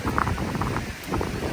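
Wind gusts buffet the microphone on a stormy seashore in Anapa, a loud continuous rumbling rush with no voices.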